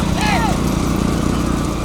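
Bulls pull carts in a bullock cart race at Kadamangalam, Ramanathapuram district, with a busy rumble of hooves and wheels under loud crowd noise and a commentator's voice.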